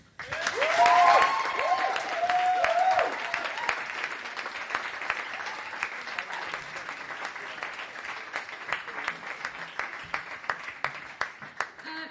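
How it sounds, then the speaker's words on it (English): An audience at the Sheffield vs Leeds poetry slam applauds the poets, full clapping with brief whoops near the start that eases into thinner, scattered claps as it goes on. "I think they all deserve another round of applause."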